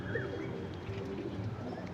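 Domestic pigeons coo softly and continuously at close range, a low burbling murmur with a few brighter calls on top, and no talking.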